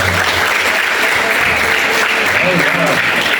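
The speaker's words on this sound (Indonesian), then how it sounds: "Tepuk tangan." Applause from a school classroom of junior high students, dense clapping under overlapping children's voices and chatter throughout.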